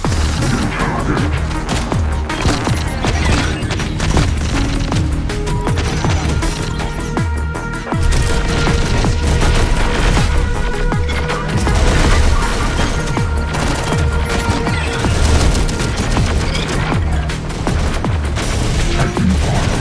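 Dense, loud gunfire rattles almost without a break in the video game Terminator: Dark Fate - Defiance, with overlapping bursts, crashes and booms over a heavy battle soundtrack.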